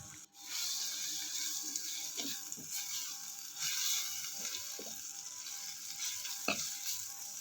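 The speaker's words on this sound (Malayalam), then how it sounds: "എല്ലാം അതിൻ്റെ ആ പച്ചമണം ഒന്ന് മാറുന്ന വരെ ഒന്ന് വഴറ്റിയെടുക്കുക" Turmeric and coriander powder sauté in a pan with a soft, steady sizzle and occasional scraping stirs of a spoon, fairly quiet and with no voices.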